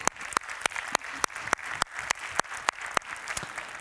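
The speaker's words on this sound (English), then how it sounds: "I like to give all of our volunteers a big round of applause" A small audience at a WordCamp conference claps for the volunteers, a sparse, uneven patter of individual hand claps with sharp distinct strikes, fairly quiet and close, with no voices over it.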